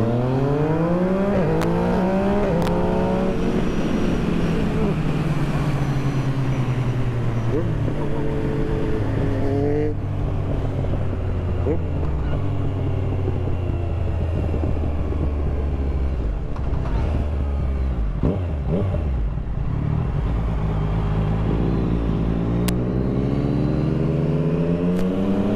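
A Yamaha motorcycle engine runs loud and steady throughout a ride, its pitch climbing and falling through repeated acceleration and gear changes, with no talk over it.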